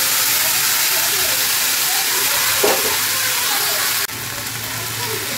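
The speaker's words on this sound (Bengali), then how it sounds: "এবার আমি মটরগুলো দিয়ে দিলাম" Green peas drop into hot oil already seasoned with a little sugar and turmeric, and the vegetarian dish sets off a loud, steady hiss that dips abruptly partway through.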